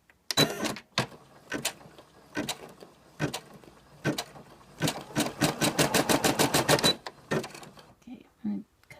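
An embroidery machine runs with metallic thread, stitching in bursts of rapid mechanical pulses, at first sparse and then a fast steady run of repeated clacks, with brief pauses between; a voice speaks briefly near the start.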